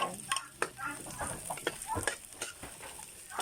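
Chicken goes into a hot frying pan for Filipino miswa, giving a steady close sizzle with scraping stirs and clinks over the frying.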